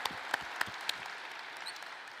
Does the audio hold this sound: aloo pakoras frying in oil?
no